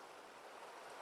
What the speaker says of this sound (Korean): 우아 여기 물소리 들리시죠?